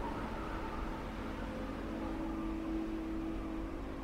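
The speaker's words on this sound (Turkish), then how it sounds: "Rüzgarın uğultusu" Low, steady howl of wind moving through a cave passage, a continuous droning rush with a faint tonal whine, moderately quiet and unbroken throughout.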